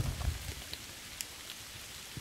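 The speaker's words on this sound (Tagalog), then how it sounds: "Ulan na yun ba?" Light rain patters softly and steadily, with a few scattered drops and a brief low rustle at the start, faint and distant.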